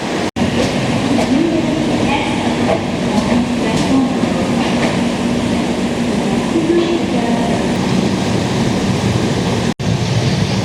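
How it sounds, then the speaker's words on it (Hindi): The Bangalore Rajdhani train rolls out of the station, a loud steady rumble with rhythmic wheel clatter close by, and a voice talks faintly beneath it. "ये लो भाई बेंगलोर राजधानी तो चल रही है फिर से"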